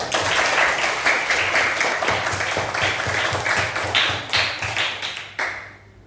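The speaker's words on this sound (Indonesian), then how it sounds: "Oke, kita berikan tepuk tangan dulu." Steady applause from a class, dense hand claps rising and falling for several seconds before tapering off near the end.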